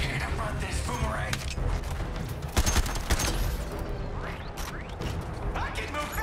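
Gunfire and clattering mechanical action from the superhero shooter Suicide Squad Kills the Justice League, a dense continuous barrage with a few sharper shots midway, mixed under game music and character voices.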